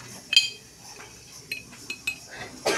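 Amul milk goes into a tea cup with several light clinks and taps of spoon against cup, scattered irregularly and heard up close in a quiet kitchen.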